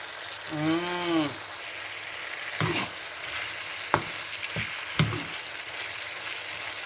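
Green salmon sauce with blended broccoli cooks in a pan with a soft, faint bubbling sizzle and a few clicks of a utensil, after a short musical tone at the start.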